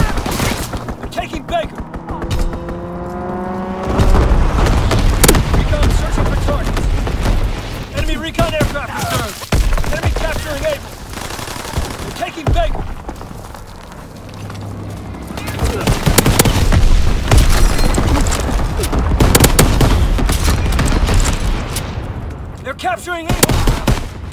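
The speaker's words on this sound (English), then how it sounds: "Fighter pilot inbound. Strafing the target." A fighter plane strafing run in the World War II shooter game Call of Duty: WW2 brings dense, loud bursts of machine-gun fire and heavy booms. The gunfire rolls on almost continuously while a voice talks over it.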